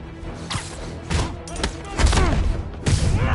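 Rapid gunfire and crashing impacts from a PS4 shooter game, several bursts of shots and thuds in quick succession over about three seconds, loud and close, with the clatter building toward the end.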